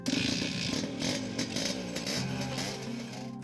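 Motorcycle engine runs steadily at idle with a rough, buzzing mechanical drone. The bike has a fault and gives off white smoke.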